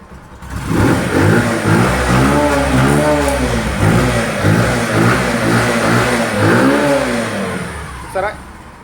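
A nearby Bajaj CT110 motorcycle engine revs and rumbles with rising and falling pitch, loud and steady for several seconds before a brief higher whine near the end.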